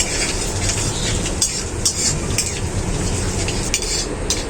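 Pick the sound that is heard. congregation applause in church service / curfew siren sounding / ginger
ginger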